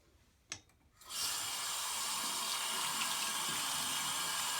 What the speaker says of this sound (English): So I'm just going to run it under the sink now, and we'll see what comes out.